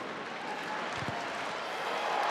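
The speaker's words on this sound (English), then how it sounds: "the crowd tonight at Stade Marcel Michelin have played their part" Crowd applauding and cheering at a women's rugby union match at Stade Marcel Michelin, France v Ireland, a steady distant wash of clapping and crowd noise that swells slightly toward the end.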